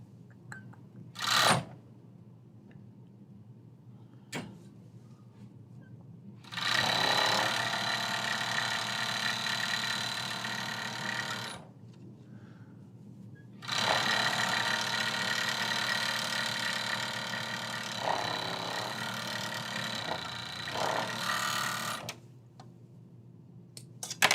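A serger stitches fabric in two sustained bursts of whirring machine noise, each several seconds long, separated by a quiet pause with faint handling sounds; no one speaks.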